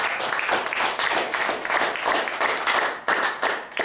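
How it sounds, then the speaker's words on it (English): A live comedy mind-reading show audience breaks into applause, a sustained, crowded wash of clapping that swells and dips in waves across the room. "everyone will go mad with applause"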